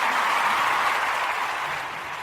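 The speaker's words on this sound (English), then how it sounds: "So I'll put this round of applause in because I can" Canned round-of-applause sound effect played into a podcast recording, a dense, even wash of clapping and crowd noise that holds steady and tapers slightly toward the end, with no voices.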